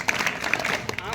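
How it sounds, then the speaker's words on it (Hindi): Students in a classroom clapping briefly for a classmate during a lesson on the eye, scattered hand claps mixed with a voice speaking. "तो उनके लिए ताली बजाइए पहले तो आप।"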